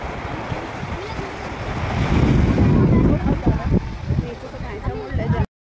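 Surf rolls in along Daman fort beach, a broad roar of breaking waves that swells in the middle, mixed with wind buffeting the microphone and a voice speaking over it.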